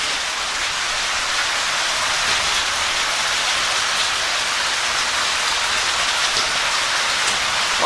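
Steady rushing and pattering of water dripping and flowing inside a brick-lined culvert along a rail trail, a dense continuous wash with no voices.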